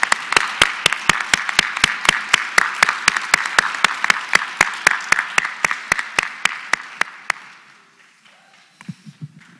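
An audience at an awards event applauds together in loud, evenly spaced claps that build and then fade out over several seconds, leaving a few scattered sounds afterward.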